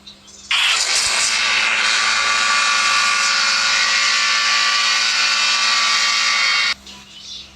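A sustained, loud whooshing whir like a helicopter, held steadily for about six seconds before cutting off abruptly, most likely a voice or speaker imitating rotor noise.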